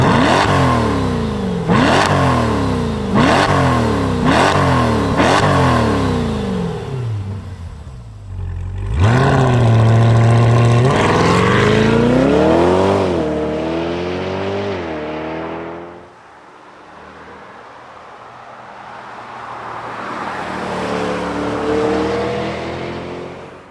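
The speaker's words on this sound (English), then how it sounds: "Let's see this C8 Corvette E-Ray in action." A 2024 Chevy Corvette C8 E-Ray hybrid sports car revs hard through several quick upshifts, then surges past with a loud rising engine roar that fades into the distance before building again far off, with no voices.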